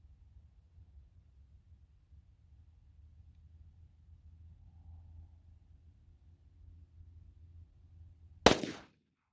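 A Glock 33 pistol fires a .357 SIG Underwood 124-grain hollow-point round over a chronograph: one sharp, loud report bursts out near the end after several seconds of quiet low rumble.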